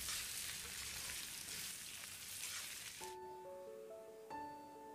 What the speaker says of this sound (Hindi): केले को भी हम चलाते हुए धीमी आंच पर ही भूनेंगे।